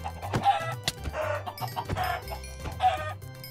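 A hen clucking in the Minecraft video game, repeated short bursts of clucks in a regular rhythm with low background game music, close and clear.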